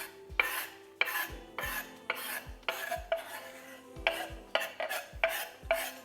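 Garlic cooking in about four tablespoons of melted butter in a pan, a series of regular scraping stirs with a spoon over a faint sizzle, close and rhythmic with no voices.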